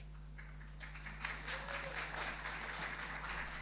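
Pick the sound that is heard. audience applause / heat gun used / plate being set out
audience applause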